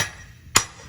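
A single sharp metallic strike of a ball peen hammer against a vehicle kingpin, loud and close, with a brief ringing decay and no talking.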